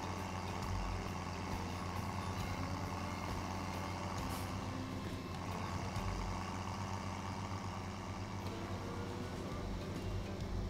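A tractor or farm vehicle drives steadily in Farming Simulator 17, its engine holding a continuous low drone with no pauses.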